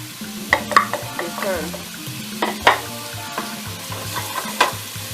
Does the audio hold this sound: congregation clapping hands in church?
no